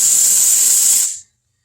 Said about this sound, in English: When you first start steaming, you're going to have a lot of water